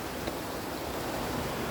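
Steady, broadband rushing of a waterfall in Andorra, constant and even throughout with no other sounds.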